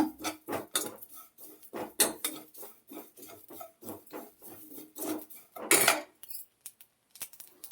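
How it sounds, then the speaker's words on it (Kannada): Spices being dry-roasted over a medium flame for Malnad-style saaru (rasam) powder, a steady run of close, rhythmic scraping and rattling clinks as a spoon stirs them around a metal pan, with no talking. "ಮೀಡಿಯಂ ಫ್ಲೇಮಲ್ಲಿ ಹುರ್ಕೊಳ್ಬೇಕು"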